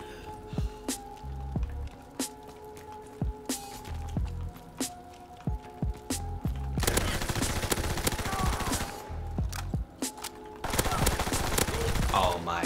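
An Orso submachine gun with rapid fire sprays in the shooter Call of Duty WW2, loud dense bursts of automatic gunfire in repeated volleys, with spaced single shots early on and background game sounds.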